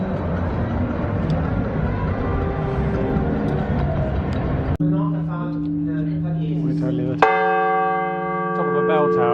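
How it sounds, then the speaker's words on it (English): Church bells being tried out atop an Italian bell tower: one bell rings with long sustained hum, then others strike clearly in turn, their tones ringing out and decaying over faint background murmur. "Top of a bell tower and they're trying out bells, as you do."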